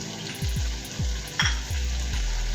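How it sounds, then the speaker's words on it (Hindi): Green chillies and fresh coriander being stirred into shaljam gosht, a turnip and meat curry, in a sizzling pot. A steady sizzle runs beneath a series of rhythmic spoon scrapes against the pan, with no talking. "हरी मिर्चें और हरा धनिया शामिल करके अच्छी तरह इसको मिक्स कर लेंगे।"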